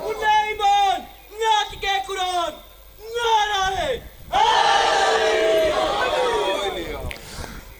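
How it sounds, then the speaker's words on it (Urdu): A crowd at a religious gathering chants slogans in loud, ringing bursts, following a lone voice leading the call, with the massed response swelling and holding near the end. "ریاض شاہ یہاں ہمیشہ نعرے ایسے لگتے ہیں یا آج ایسے لگ رہے ہیں؟"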